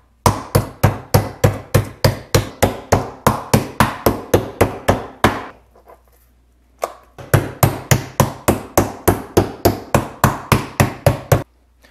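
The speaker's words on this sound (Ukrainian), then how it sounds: "Так відбиваємо всі інші шматочки." A meat mallet pounds schnitzel cutlets on a board, a close, loud, steady series of sharp thuds at about three per second, broken by a brief pause midway before the pounding resumes.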